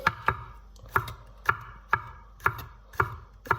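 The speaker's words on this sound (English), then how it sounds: "And quite simply just slice off your little bits of garlic" A knife slices small garlic cloves on a cutting board, eight crisp, evenly spaced taps close to the listener in a quiet kitchen with no talking.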